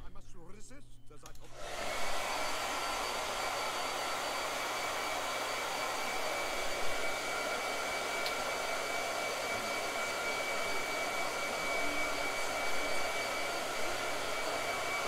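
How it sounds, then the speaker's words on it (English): A blow dryer switches on after a brief moment of quiet and then runs as a continuous, steady, loud whooshing roar that holds its level without pause. "Blow dryer. Blow dryer."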